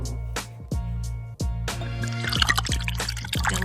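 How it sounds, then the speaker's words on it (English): A drink is poured for a relaxed cigar tasting of a Nomad Caramel Corn limited edition, with liquid splashing and trickling in short bursts over a steady low hum and faint background music. "pour up a drink"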